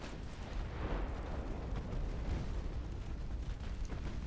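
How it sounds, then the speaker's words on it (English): Ship ammunition detonating during a naval video game battle, heard as a continuous dense rumble of distant explosions and bursts, fairly quiet and unbroken, with no talking. "Ammo detonations."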